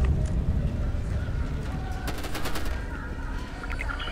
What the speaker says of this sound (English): Alright, I hear shooting.